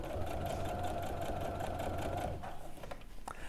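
A sewing machine runs at a steady, even stitching rhythm for a couple of seconds, then slows and stops. A few light mechanical clicks follow in a quiet room.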